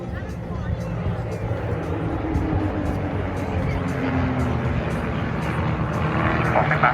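An RV8 aerobatic light aircraft with a long nose and tail-wheel undercarriage performs at a seaside air show, its steady propeller engine drone filling the whole stretch, with crowd and wind noise and a commentator speaking over it.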